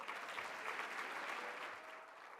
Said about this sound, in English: don't stop applauding